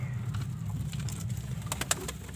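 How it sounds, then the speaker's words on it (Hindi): A pigeon coos softly over low, rumbling background noise, with a few brief sharp sounds near the end. "ये जी कबूतर है"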